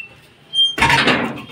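A household door being shut, a faint creak followed by a brief knock and then a longer sliding rumble, heard close and alone.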